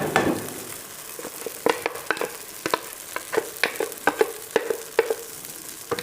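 Milk and ground lentils poured into hot, hardened sugar for makhandi halwa set off a steady sizzle, broken by regular sharp clicks of a spoon stirring against the pan, close up with no voices.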